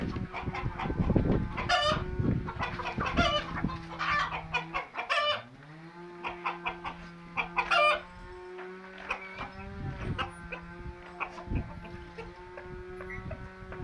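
Chickens cluck and squawk continuously nearby in a small uninsulated coop at evening feeding, several birds overlapping in a busy, restless chorus.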